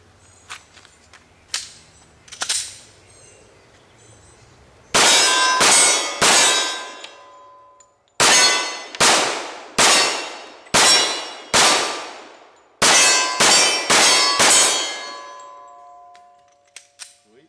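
A Glock pistol fitted with aftermarket parts fires 230-grain rounds at a range, giving about a dozen loud, sharp reports close by, some in quick pairs and triplets, with a few faint clicks between.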